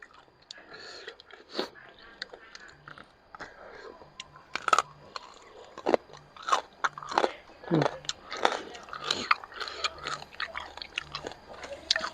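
Crunchy Thai pork crackling is bitten and chewed close up, with repeated sharp crunches and crackles in irregular bursts, interspersed with quiet talk.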